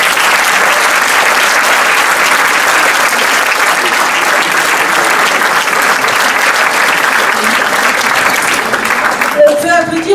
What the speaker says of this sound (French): Donc je voudrais qu'on applaudisse également le bureau présent.